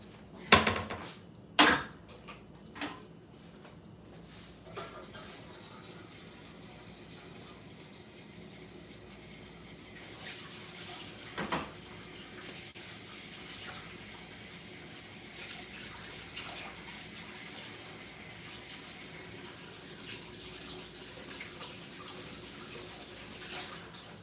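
Hot water runs steadily from a tap for the whole stretch, with a few sharp knocks and clatters near the start and another around the middle, no talking.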